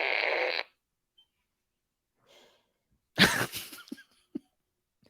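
One sharp, loud cough bursts out after a stretch of quiet, followed by a few short breathy huffs and throat noises at close range in a studio.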